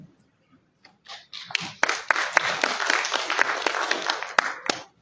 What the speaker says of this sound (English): so we give them a hand of applause.